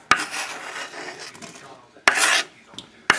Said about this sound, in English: Now we'll add the rest. The corn, which has been cut off the cob